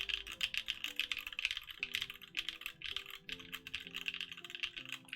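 Rapid, steady keystrokes on a custom Oblique mechanical keyboard, crisp clacks continuing throughout over quiet background music.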